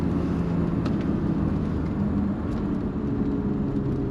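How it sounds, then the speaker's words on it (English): A BMW 325is engine drones loud and close, a dense low rumble that holds steady through the whole stretch with no voices over it. "So you just touch that accelerator, and the rev needle just dances."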